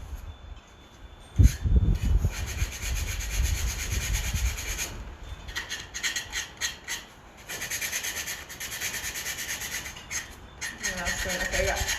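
Hand sanding of cut wooden picket frame pieces to clear burrs, heard as steady rasping strokes on wood in bursts with short pauses, close and moderately loud.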